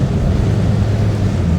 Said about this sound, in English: Excuse the noise from the quarter lights, but it is lovely having those open.